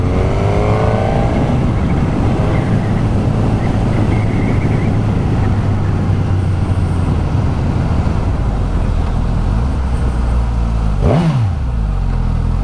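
A loud Suzuki GSX-S 950 motorcycle engine with stock exhaust idles and revs, with a rising-then-falling rev near the end, buffeted by heavy wind noise throughout.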